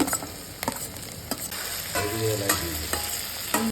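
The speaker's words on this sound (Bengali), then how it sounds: "পেঁয়াজটা ভাজা হচ্ছে" Onions frying in a pan for ghugni, a steady close sizzle broken by repeated sharp scrapes and clanks of stirring throughout.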